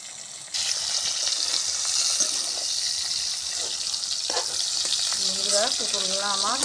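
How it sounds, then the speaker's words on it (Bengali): Pointed gourd (potol) frying in hot oil and being turned over, a steady loud sizzle close by, with a few knocks of the turning utensil and a faint voice toward the end. "ওগুলা সুন্দর করে এরকম উল্টে পাল্টে ভাজে নেব"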